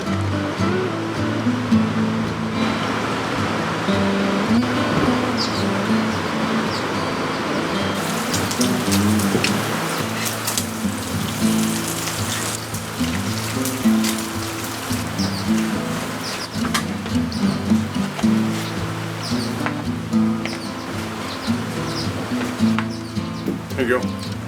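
Steady rain hissing and pattering on surfaces at an off-grid cabin while a rain barrel fills, continuous throughout, with occasional murmuring voices underneath.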